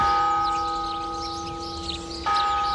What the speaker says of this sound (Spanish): Las campanadas de esta torre son tañidos civiles y seculares.